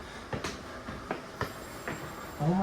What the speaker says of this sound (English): Oh, just in time for a train.